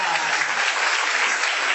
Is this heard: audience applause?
yes